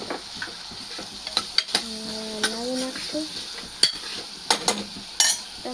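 Tomatoes sautéing in a pan, a low sizzle broken by sharp clinks and scrapes of a utensil against the pan, close, with a brief hum of voice in the middle.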